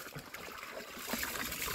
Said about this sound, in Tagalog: Buhusan mo tubig.